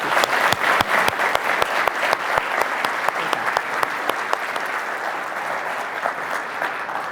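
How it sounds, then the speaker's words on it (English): A conference audience at a presidential plenary applauds the board and volunteers: a few loud, sharp claps ring out near the start, then blend into sustained, even clapping from many hands that slowly fades. "So why don't you all just join me in a round of applause for."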